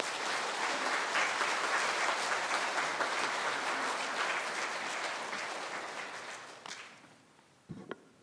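Warm welcoming applause from a church congregation greeting a priest, dense clapping that holds steady for several seconds, then thins and fades out, followed by a few faint knocks and shuffles in the quiet.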